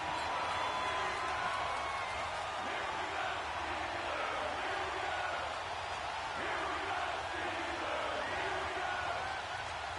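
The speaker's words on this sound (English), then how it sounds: "The crowd getting into it as we come up on a big 3rd down." Steady roar of a stadium crowd in a football video game, a dense continuous wash of noise holding at an even level with no distinct cheers standing out.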